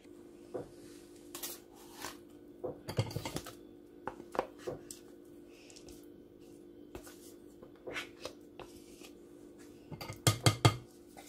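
Mascarpone cheese mixed into chocolate cake batter in a bowl, heard as soft, irregular utensil taps and scrapes against the bowl, quiet and intermittent with brief pauses, no talk.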